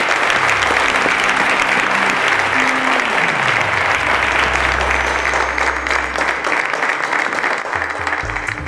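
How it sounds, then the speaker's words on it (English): Loud, sustained audience applause in a quiz-show studio on a TV finale, dense and continuous throughout with a low musical tone sliding underneath. "Ladies and gentlemen, round of applause to all 3 of them."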